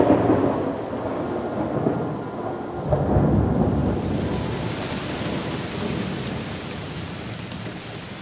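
Heavy rain falls steadily while a deep roll of thunder rumbles, swelling around the middle and then fading into the continuing downpour.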